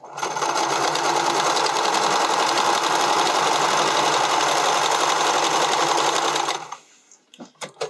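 A sewing machine runs steadily while stitching elastic onto a garment neckline, a loud continuous motor whir lasting several seconds before stopping, followed by a few brief clicks and handling noises.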